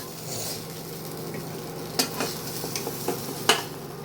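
Quiet sizzling in a pan with a few sharp scrapes and clinks of a utensil stirring and lifting fried eggplant, no talking.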